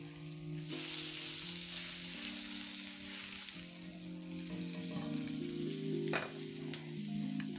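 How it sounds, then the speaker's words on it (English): Butter and a little olive oil sizzle steadily in a frying pan, a continuous close crackling hiss that holds for the whole stretch with soft music playing underneath. "So I'm going to be adding butter to my pan and a little bit of olive oil"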